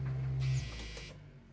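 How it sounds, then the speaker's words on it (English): A dryer hums in a Fallout 76 vault, a steady low drone with a brief buzzing tone at the start and a higher mechanical whir that rises and then drops away, running alone at low volume. "On, we have our dryer."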